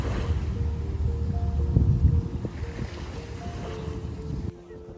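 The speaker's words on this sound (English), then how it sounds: "the ferry arrived at Walls Island" A Toronto Island ferry pulls in to the dock, a low, steady engine rumble with water and wind noise, one heavier surge partway through, then quieter at the close.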